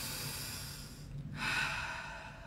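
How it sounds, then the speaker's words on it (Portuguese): One slow, deep breath, a soft drawn-in inhale followed by a fuller, airy exhale, close to the microphone against a steady background hum. "dá uma respiração bem profunda"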